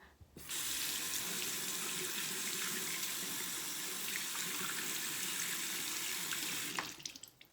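Tap water runs into a bathroom sink as a makeup sponge is filled underneath, a steady close hiss of flowing water that starts abruptly, holds for about six seconds, then cuts off.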